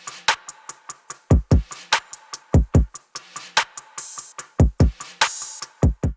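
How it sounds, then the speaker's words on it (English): Programmed hip hop style drum pattern for a country pop production, with punchy deep kicks and a layered clap and snare hitting in a steady, dry rhythm, isolated with no other instruments. "The drums on their own sound like this."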